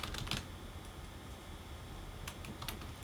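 Fingers tap on a computer keyboard in two short bursts of close clicks, one at the start and one near the end, with quieter room tone between.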